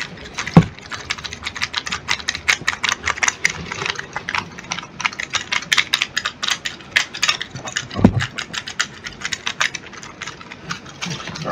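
Fingers clatter across a computer keyboard in a rapid, uneven stream of close clicks, with a couple of heavier knocks along the way and no talking.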